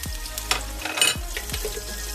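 Garlic, onion and ginger frying in a pan, a steady loud sizzle with a few sharp scraping stirs of a utensil across the pan.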